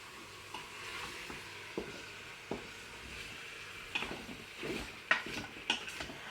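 Couscous ingredients browning in a Cookeo multicooker: a quiet, steady sizzle with scattered scrapes and clinks of a utensil stirring against the pot, growing busier toward the end.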